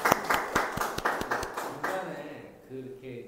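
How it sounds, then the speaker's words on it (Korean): Audience applause at a special lecture and exhibition talk, brief rhythmic clapping that fades out after under two seconds, followed by a voice speaking. "박수 한번."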